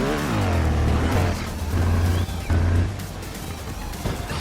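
A motorbike in the video game Trials Fusion revving and accelerating over ramps, a loud steady engine drone with rising and falling pitch sweeps and a brief clunk midway, close and continuous.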